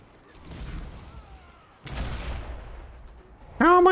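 Hell cannon firing in the video game Warhammer Online: Return of Reckoning, with two heavy booming blasts about a second apart, each trailing into a rumbling decay, before a voice cuts in at the end.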